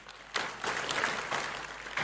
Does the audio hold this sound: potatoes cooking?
no